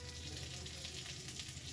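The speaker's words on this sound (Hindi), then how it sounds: "प्याज लहसुन हरा हरा करके इधर से भून लेते।" Onion and garlic frying in a pan, giving a steady, faint sizzle that continues without a break, with no talking.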